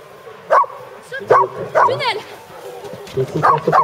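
Dog barking in repeated sharp bursts during an agility run, close and fairly loud, with a person's voice talking in between the barks.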